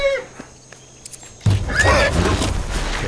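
A horse whinnies near the start in the game Ancestors: The Humankind Odyssey, followed by quiet clicks, then a burst of rushing, noisy commotion fills the rest of the clip.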